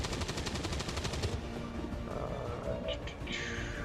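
Rapid bursts of gunfire in the XCOM 2 tactical video game, a fast rattling volley in the first second and a half, followed by fainter mechanical and electronic game effects.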